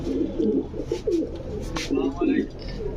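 Pigeons cooing at a pigeon seller's place, soft repeated low coos in short bursts, fairly close, mixed with a few higher chirps and faint background voices.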